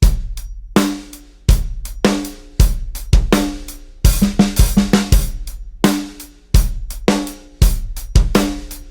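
A close, loud drum kit plays a two-bar groove with kick, snare and hi-hat, the second bar busier with quick snare hits, repeating twice.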